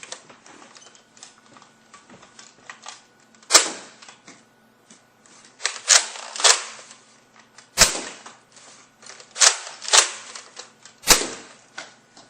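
A Nerf Recon CS-6 blaster fitted with a sniper-style barrel extension fires several times, each a sharp close snap or pop, mixed with plastic clicks of priming and loading between shots.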